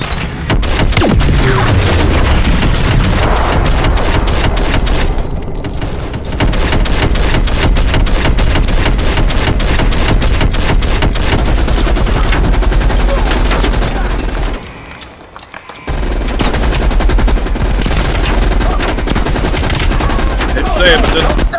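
Sustained automatic gunfire and booms from the Call of Duty: Black Ops Cold War campaign, loud and dense with rapid bursts nearly throughout, a brief lull near the end before firing resumes.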